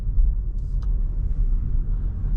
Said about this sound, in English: we're driving just on electric power